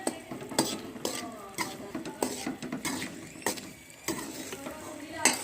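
Rice flour being stirred and roasted in a pan for chawal ki pinni, a spoon scraping with a soft sizzle and irregular scratchy strokes, close and steady with no talk.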